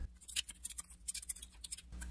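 Quiet, close riffle and patter of board game cards being shuffled by hand for a solo tabletop playthrough, a rapid run of soft ticks and flicks with a brief pause near the end.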